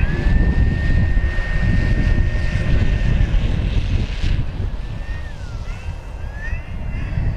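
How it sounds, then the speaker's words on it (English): FMS Corsair 1700mm RC warbird on 8S power taking off at full throttle, a loud continuous electric motor and propeller whine that rises in pitch as it climbs, with wind buffeting and some faint background voices. "Taking off. Full power, going straight up, gears coming up."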